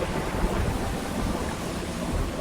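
Heavy rain pours steadily in a cartoon storm scene, a dense continuous roar with low rumbling thunder underneath, loud and unbroken throughout.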